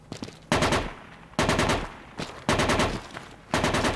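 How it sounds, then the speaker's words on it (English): Machine gun tracer fire in the Project Reality video game, four loud bursts of rapid automatic shots, each lasting about half a second to a second, separated by short pauses and close by. "Keep your tracer fire going on that roof"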